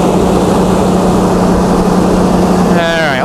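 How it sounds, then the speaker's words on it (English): A Chrysler Slant 6 gas engine runs steadily, driving a generator under an 18-kilowatt load, with a smooth, continuous drone throughout. A brief whistle-like tone rises near the end. "how nice and smooth the gas engine can be."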